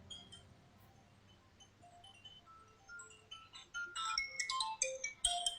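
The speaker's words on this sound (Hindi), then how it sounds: "आपका फोन आ रहा है" A phone ringtone plays a bright electronic melody of stepped tones, soft at first and growing louder and busier toward the end, with no talk over it.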